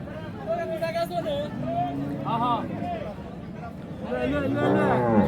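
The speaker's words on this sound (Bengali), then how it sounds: "খামার উপযোগী খুব সুন্দর সুন্দর শাহিওয়াল গরু এই হাট থেকে আপনারা কালেকশন করতে পারবেন" Sahiwal cattle at a busy livestock market give low mooing calls over crowd babble, with people talking close by throughout.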